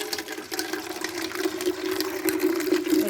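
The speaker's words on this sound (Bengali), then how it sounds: "এই দেখুন টাইম কলের জল এখন সব ধরে রাখছি এখানে" Water from a time-controlled municipal tap runs steadily into a container being filled for watering plants. The pouring holds as a continuous rushing stream with a faint humming undertone.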